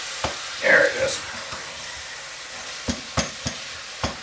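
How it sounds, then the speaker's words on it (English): Meat frying in olive oil, a lean cut giving a high, crackling sizzle with sharp pops and spits scattered through, close and fairly loud, with a brief stir near the start. "When you get that high crackle like that, it typically means that the meat is actually quite lean."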